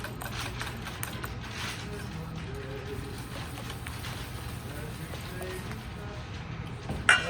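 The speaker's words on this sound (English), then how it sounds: "9 eggs, a cup of sugar. I'm whisking that together." Nine eggs and a cup of sugar are whisked together in a bowl for bread pudding, giving a steady, rapid, rhythmic ticking that runs the whole time and ends in a louder knock.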